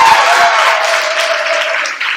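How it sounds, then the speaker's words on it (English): An audience claps steadily and loudly in a sustained round of applause for the founder of a concert series, the dense clapping continuing without a break. "Let's give her a whole round of applause."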